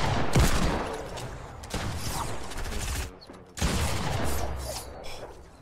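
Rapid bursts of quad launcher rockets firing and exploding in the Fortnite video game, loud and layered with chaotic battle noise, with a brief lull before another heavy barrage.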